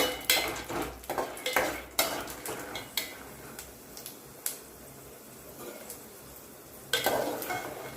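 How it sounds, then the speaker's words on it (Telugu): A spoon scrapes and clatters against a pan in quick, irregular strokes while peanuts fry quietly in oil underneath. "ఆయిల్ వేడెక్కినాక పల్లీలు వేసుకుందాం ఈ పల్లీలు వేగేంత వరకు కలుపుతూ ఉండాలి"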